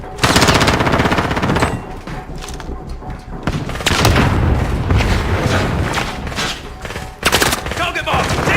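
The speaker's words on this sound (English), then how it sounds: "Enemy precision airstrike. Take cover." Enemy precision airstrike in a military shooter video game, loud booming explosions and rapid bursts of machine-gun fire in close, repeated volleys.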